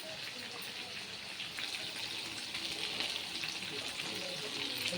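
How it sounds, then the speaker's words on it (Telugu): Fish sizzling as it fries in a pan, a steady crackling hiss that holds at an even level throughout. "చూడండి, ఫ్రై వేగుతూ ఉంది."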